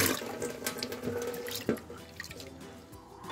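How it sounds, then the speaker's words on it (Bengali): Tap water runs into a bowl as chana dal is rinsed, a close splashing stream with small clatters and drips from the handled lentils. "চলো আগে ডালটা ধুয়ে নেবো"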